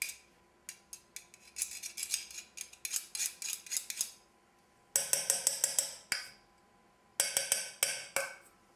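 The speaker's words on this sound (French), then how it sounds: "S'il reste un peu de banane sur le presse-purée, je mets de la cuillère pour que tout tombe dans le saladier" A spoon scrapes and clinks against a potato masher, knocking mashed banana into a salad bowl in quick bursts of metallic scraping and tapping with short pauses between.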